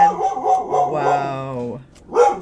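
Puppies barking outdoors, heard as a few yappy, rising barks and a short howl-like yip from nearby, loud and clear in short bursts.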